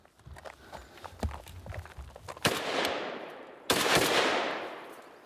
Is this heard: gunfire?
yes